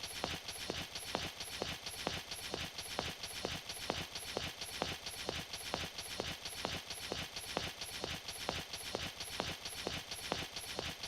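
Running footsteps of a character in the God Eater Resurrection video game, an even, rapid clip-clopping rhythm of steps repeating steadily from start to finish with no talk over them.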